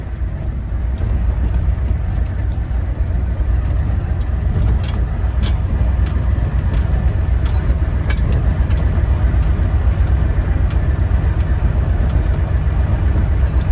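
A 1973 truck with a 7.3L engine, built for overlanding, drives steadily with a loud, continuous low rumble and road noise, and scattered rattles and clicks over the top.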